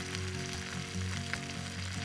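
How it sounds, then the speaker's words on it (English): Breakfast frying in a pan over an outdoor campfire in the snow, a steady close sizzle with dense crackling and occasional sharper pops throughout, no talking. "I really hope you guys can hear that sizzling and crackling."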